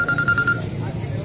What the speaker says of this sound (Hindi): दोबारा आपका फोन आ रहा है